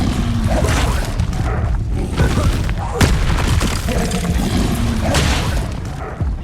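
In Hogwarts Legacy combat, an Expelliarmus spell fires off among dense booming impacts and crashing magical blasts, loud and continuous, with voices partly heard in the mix.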